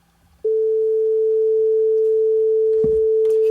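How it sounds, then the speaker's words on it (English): A steady, pure sine-wave reference tone used for tuning a violin's A string starts abruptly and holds at a constant pitch and loudness, with a brief thump and faint rustle partway through. "Here's a sine wave."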